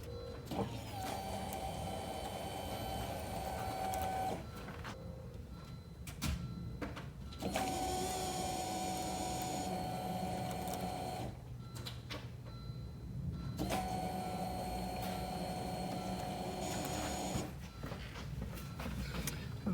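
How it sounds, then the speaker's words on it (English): A fuel pump in a 1996 Volvo 850 Turbo wagon whirs in three separate steady bursts, each a few seconds long with short pauses between, as the key is cycled. "as you can see, we cycled the pump a few times"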